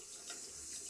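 Tap water runs over a mirror-polished straight razor blade being rinsed, a steady bright splashing hiss that swells slightly in the middle.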